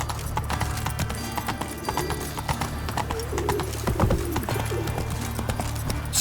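Roach, the horse from The Witcher 3, gallops with a steady, loud beat of hooves close by, while a rumbling game soundtrack and a faint whinny sit underneath.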